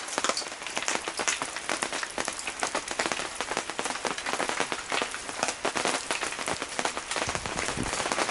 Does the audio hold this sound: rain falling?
yes